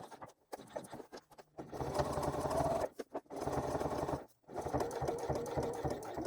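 A domestic sewing machine stitches straight across a slip pocket in fast, steady bursts, pausing twice briefly between runs, close and clear with no talking.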